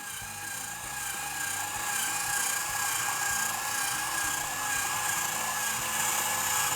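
An electric kitchen peeling gadget runs with a steady, close mechanical whir and a high-pitched motor whine, holding constant without pause.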